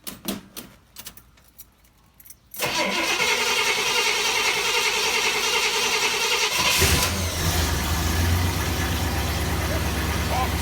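A 1970 Pontiac GTO is started: a few light clicks and rattles, then the engine suddenly fires and settles into a loud, steady idle that shifts slightly in tone partway through.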